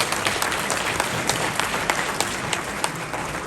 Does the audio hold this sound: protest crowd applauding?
yes